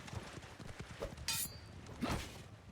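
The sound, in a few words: horse hooves in Mount and Blade 2 Bannerlord video game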